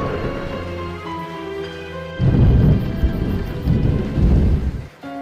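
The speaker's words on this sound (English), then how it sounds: "Ooh, thunder." Thunder rumbles in a Roblox game as hail falls indoors, with a deep crash that breaks in suddenly over the game's music and rolls on loud in repeated waves.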